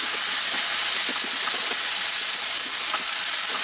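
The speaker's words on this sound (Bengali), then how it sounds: "পেঁয়াজগুলো একটু সসে করে নিব, যাতে মানে ক্যারামেল পেঁয়াজ টাইপের করে নেব আর একটু বাদামি বাদামি করে নিব।" Onions sizzling and frying in a pan for tandoori chicken, a steady close crackling hiss with scattered spatter pops throughout, no voices.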